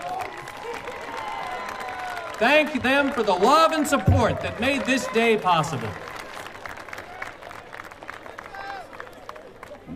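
Applause and cheering from a large commencement audience rise in a loud swell for graduates' families and friends, then taper off, with a speaker's amplified voice heard over the crowd before and after.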